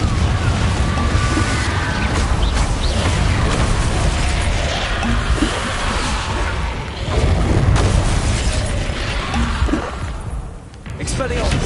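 Spell blasts from the Confringo fire charm burst repeatedly in Hogwarts Legacy combat, a dense, loud stream of booming impacts and crackling mechanical clatter with a voice calling spells over the din.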